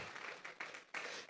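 A church congregation at a Sunday service claps as an offering of praise, bursts of dense applause swelling and fading in a roomy hall.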